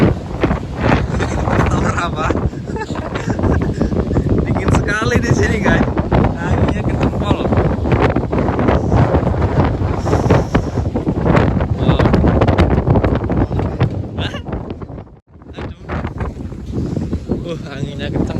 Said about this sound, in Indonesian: Anginnya kencang, dingin.